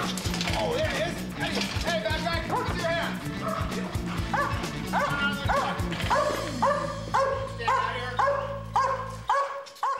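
A police dog on a suspect search barks and yips repeatedly in rapid, excited bursts, with whimpering between them, close and loud, and someone talks over part of it.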